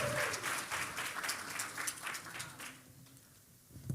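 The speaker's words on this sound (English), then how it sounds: "Please give a round of applause to Tiffany Richards" Audience at a multiple myeloma patient event in Houston claps for a speaker. The applause is strongest at first, then thins and fades toward the end, with a brief bump of sound just before it stops.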